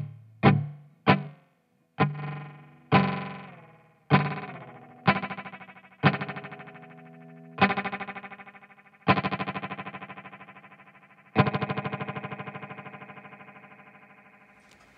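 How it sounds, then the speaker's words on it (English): Guitar played through a TKOG Mini Glitch pedal set for a short, glitchy delay. A series of plucked notes and chords sound alone and close, each attack followed by a quick, stuttering repeat and a ringing decay. The later chords sustain longer. "I like that sort of really short delay anyway."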